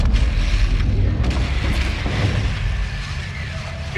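Rocket launcher explosions rumble in Modern Warfare 2, heavy low booms rolling under battle noise, with voices speaking over the din.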